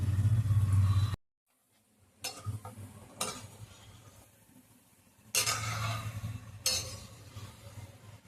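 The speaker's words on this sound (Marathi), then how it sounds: "हे आपण गुलाबजामुन तळून घेत आहोत" Gulab jamun balls frying in hot oil give a steady sizzling hiss that swells in louder bursts, with brief stirring clatter and a short silent gap near the start.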